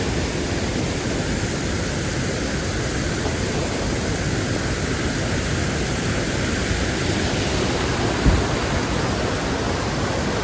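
A waterfall in Colorado, one of three separate falls at a site with caves, gives a steady, broad rushing roar that holds even and unbroken throughout, with no voices over it.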